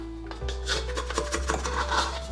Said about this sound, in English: We'll give it a scrape, get all those bits off.